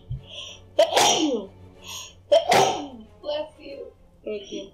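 Two loud, close sneezes about a second and a half apart, each a sharp burst, followed by soft vocal sounds while someone plays a card game.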